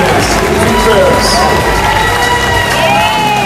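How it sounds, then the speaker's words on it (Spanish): Audience applause and cheering for fitness pairs at a Miss & Mister America IFBB Cup 2023 bodybuilding competition, a steady, loud wash of crowd noise lasting throughout. "Y un fuerte aplauso para estas tres parejas que componen la categoría"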